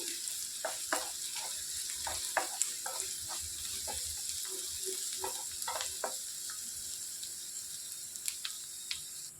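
Egg masala curry frying in a pan, a steady sizzle running throughout with scattered clicks and scrapes on top; no one speaks.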